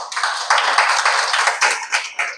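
An audience at a group-life talk applauds in one brief, bright burst of many hands clapping, with uneven pulses throughout, close and fairly loud, with no voices.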